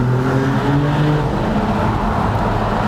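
A Maserati MCPURA engine revving inside a tunnel, a loud, steady sustained drone with a droning harmonic pitch that shifts slightly, reverberant and continuous throughout without speech.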